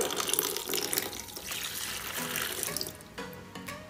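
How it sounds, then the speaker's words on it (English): Water pours steadily into a container with a continuous splashing, gurgling rush, close and fairly loud, with small shifts in flow throughout. "However much water we pour, and however hard it gets"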